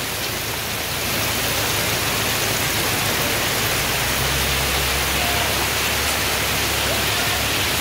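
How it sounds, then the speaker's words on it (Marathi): Heavy rain pours steadily over a Konkan village at the start of the monsoon, a dense, continuous hiss of water that swells slightly after the first second and holds loud and unbroken, with no voices. "पाऊस काही कमी होत नाही हा"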